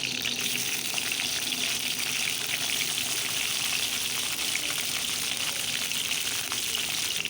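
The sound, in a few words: hilsa fish frying in oil in a wok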